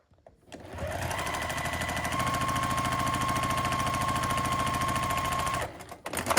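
A sewing machine stitching quilt sampler blocks runs steadily at close range, a fast even mechanical chatter with a faint whine, starting abruptly, holding for about five seconds, then stopping.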